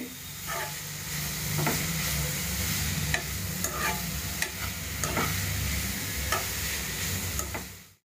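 Grated carrot for carrot halwa fries in a pan with a continuous sizzle, while a spoon scrapes and stirs it in repeated soft strokes, close and steady throughout.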